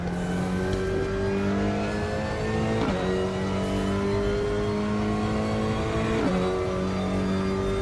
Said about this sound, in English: it's probably trying to tell me that it's got straight cut gears and that's what the whine is for, but it very much resembles a little roots blower